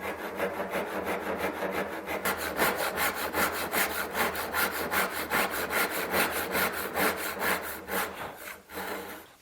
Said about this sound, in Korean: 그럼 톱질을 해보도록 할게요.